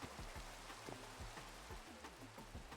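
Rain falling in the Minecraft video game, a steady hiss of drops pattering on blocks, continuous and fairly quiet, with repeated low thumping tones from game sounds underneath and no talking.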